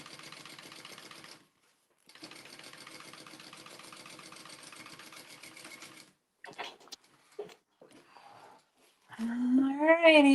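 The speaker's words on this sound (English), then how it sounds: "I'm top stitching my last one." Sewing machine top stitching in quick, rapid, even bursts with a short pause between runs, fairly faint. Several small clicks follow, then a voice starts speaking at the end.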